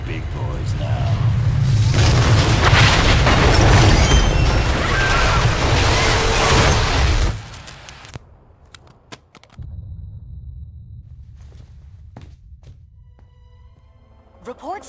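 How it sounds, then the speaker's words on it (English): A massive explosion in a Marvel Ultimate Alliance 2 cutscene roars as a loud, sustained rumbling blast for several seconds, then drops off sharply, leaving a low residual rumble and faint scattered debris sounds. "indicate a massive explosion in a residential neighborhood"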